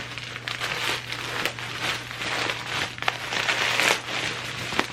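Plastic packaging around a clothing order crinkles and rustles as it is pulled open, a close, continuous crackling handled by hand, with brief louder snaps and no talk.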